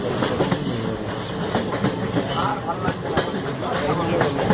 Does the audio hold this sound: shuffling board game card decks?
no